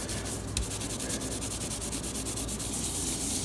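Fabric being rubbed by hand to work stain remover into a food stain, a steady close scrubbing rasp with repeated rhythmic strokes throughout, alone.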